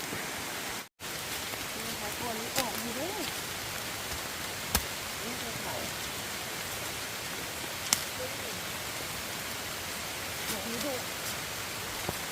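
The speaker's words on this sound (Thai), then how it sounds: "ฝนตกนะครับเก็บโทรศัพท์ก่อนนะครับ" Steady rain falls in a mountain forest during a bamboo-shoot foraging trip, a constant hiss of drops on leaves and surfaces with a few sharper taps, while voices speak softly over it.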